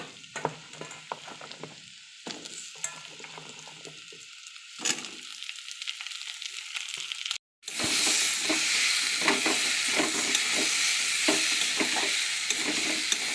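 Vegetables added to hot oil with fried onion in a wok, hissing softly at first, then a sudden loud, steady sizzle with stirring clatter after being tipped in; no talk.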